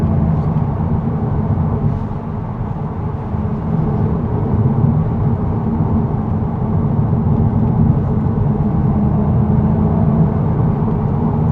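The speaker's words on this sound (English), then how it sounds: "Let me just drop down to like third gear and do an in-gear acceleration, just slow." A VW Golf 8.5 GTI pulls slowly in third gear, its engine holding a steady, loud, low droning rumble that builds only gently over the whole stretch, with no voices over it.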